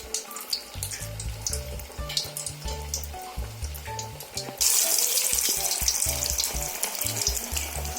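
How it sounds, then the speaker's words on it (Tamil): Banana flower vadai made with toor dal drop into hot oil. A moderate crackle first mixes with low background tones, then swells to a loud, dense, steady sizzle as more go in. "இப்போ நம்ம வாழைப்பூ வடையை வந்து நம்ம தட்டி போட்டுக்கலாம் எண்ணெயில்."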